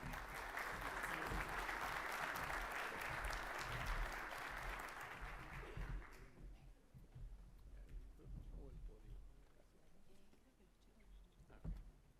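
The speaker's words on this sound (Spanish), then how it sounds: "Un fuerte aplauso, por favor, para ellos" Audience applause at a panel on connectivity in Argentina, loud and dense for about six seconds, then thinning into scattered claps and murmuring crowd noise.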